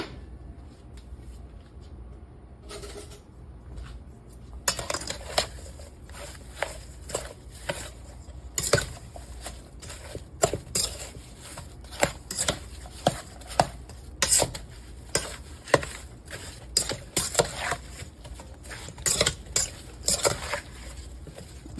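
Apple crisp ingredients with a pinch of salt being mixed in a bowl, giving irregular clinks, scrapes and taps of a utensil against the bowl, fairly close and repeating throughout.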